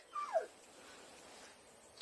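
A dog lets out a brief, faint high whimper, a rising then falling squeal, followed by quiet room tone.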